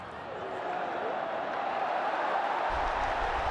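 Large stadium crowd at an India vs Pakistan T20 World Cup cricket match in 2022, a dense continuous roar close and loud with a commentator's voice over it.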